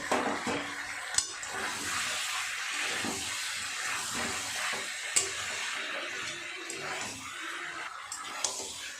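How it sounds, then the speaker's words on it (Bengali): Chicken and fried potatoes are stirred in a pan with a soft, steady hiss and scraping, punctuated by a few sharp clinks of a utensil against the pan. "দিয়ে দেবো এবার ভেজে রাখা আলুগুলো। আলুগুলো দিয়ে আরও একটু ভালো করে কষিয়ে নেব।"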